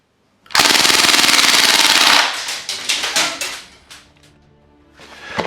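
A KWC KCB-07 gas blowback airsoft Mini Uzi, 2011 version, fires a full magazine in one loud rapid burst of about a second and a half. Rattling handling clicks follow as it falls quiet.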